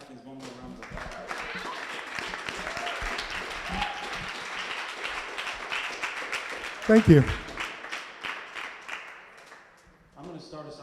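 An audience at a speaker series event applauds for a guest speaker, steady moderate clapping from a crowd that fades out, with a voice briefly speaking near the end.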